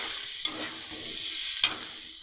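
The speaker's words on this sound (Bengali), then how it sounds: "পোস্ত আর জিরে দিয়ে এবারে ভালো করে আমরা সব মশলার সাথে মাখিয়ে নেবো" Vegetables, ridge gourd and potato coated with poppy seed paste and cumin, stirred in a pan: a steady soft sizzle with two sharp scrapes of the spoon against the pan, close and alone.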